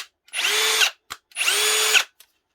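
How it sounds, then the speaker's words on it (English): A heavy duty brushless cordless combi drill with a metal gearbox and two speeds runs in two loud, even bursts of about half a second each, a high whine that spins up and stops, with quiet gaps between. "this is actually quite a heavy duty brushless cordless drill"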